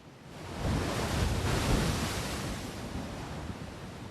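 Steady roar of ocean surf at the Cape of Good Hope, a broad continuous wash of breaking waves swelling slightly and holding, with no voices.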